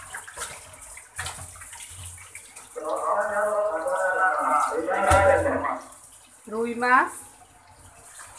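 Rohu fish being rinsed in water, with steady splashing and sloshing close by for a few seconds and a brief gurgling pour near the end, while someone talks over parts of it.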